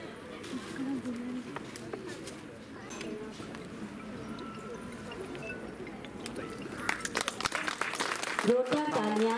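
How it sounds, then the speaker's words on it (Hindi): Audience at an annual function of a district education and training institute claps to welcome guests, scattered at first and then building into fuller applause near the end, while someone keeps speaking over it. "जोरदार तालियों के साथ स्वागत करें।"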